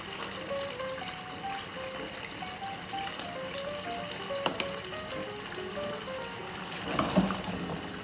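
Ricotta gnocchi slide into a simmering spicy tomato sauce, a quiet bubbling sizzle with faint watery trickles and a soft splashy burst near the end, close by and without speech.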